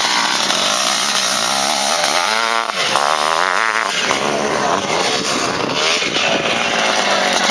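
Honda enduro motorcycle at a competitive enduro race, its engine revving loudly and steadily with rising and falling pitch sweeps throughout, buzzing close by and continuous.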